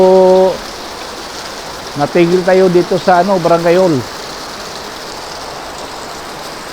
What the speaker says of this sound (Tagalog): bumalik na naman ang ulan, malakas. Ngayon malakas, oh.